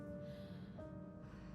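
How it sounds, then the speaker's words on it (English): Unconscious woman breathing in the Murder on the Orient Express game, a single quiet, close inhale with a faint snorting edge, alone against a low background hum. "She's breathing."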